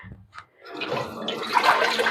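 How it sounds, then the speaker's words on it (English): Water runs steadily into and around a pot being rinsed out at a kitchen sink during dandelion syrup making, a broad splashing wash that builds after a brief pause and stays fairly loud. "rinse the pot out very quick."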